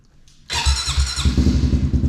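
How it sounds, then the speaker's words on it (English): A Honda CRF110 dirt bike cranks with a short electric whir, then catches and fires into a loud, close, rapid single-cylinder idle with a steady throbbing pulse. "the first thing I'm going to do is actually start the bike up, warm it up a little bit"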